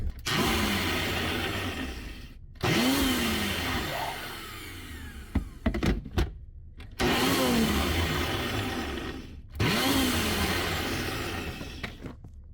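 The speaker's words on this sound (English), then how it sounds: "I'm just putting it in my bullet blender right here that you can see and just pulsing it." A bullet blender pulses a dried herb seasoning blend in four loud, roughly two-second bursts of whirring motor noise, each cut off abruptly by brief silent pauses and a few clattering knocks.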